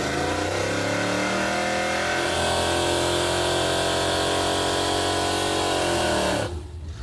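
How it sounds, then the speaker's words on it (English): A Chevrolet Impala doing a tire burnout, its engine revving hard and loud with rising harmonic pitch, sustained for about six seconds before abruptly dropping off, no talk. "All right, that was a pretty good burnout."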